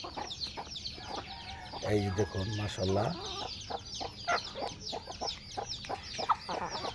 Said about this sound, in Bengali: ওই যে লাল মোরগ আসছে